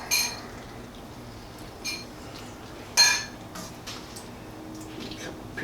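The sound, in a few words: plating shrimp alfredo with tongs, dishes clinking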